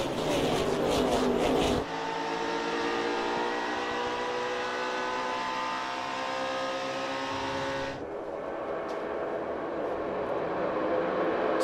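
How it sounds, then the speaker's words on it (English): NASCAR Xfinity Series stock cars roar at the Daytona race start, a loud sustained engine drone that shifts pitch as the pack passes, with no talk over it. "Justin Allgaier, 2021 is underway in the Xfinity Series."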